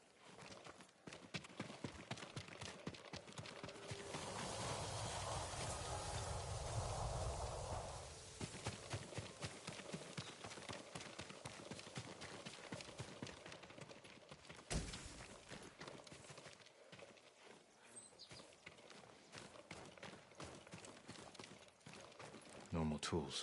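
Hooves clop steadily and faintly in the video game Ghost of Tsushima, a continuous patter of horse steps with a brief swell of noise early on and a sharp knock midway.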